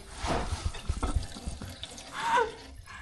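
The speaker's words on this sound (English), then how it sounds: "So this will be a big old bunch of oil coming out of here." Thick 75W-90 gear oil gushes out of a Land Cruiser drain in a loud, splashing pour, with gurgling surges and a final rush as the flow overflows.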